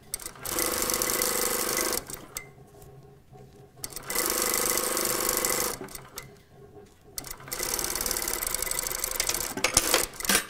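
A sewing machine stitches a seam on a panel skirt toile in steady whirring bursts, running about two seconds, pausing, running again, then a longer stretch of stitching with small stops near the end, close and loud.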